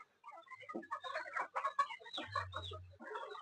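A small Sonali rooster clucks repeatedly in short, close, choppy bursts while being weighed on a scale.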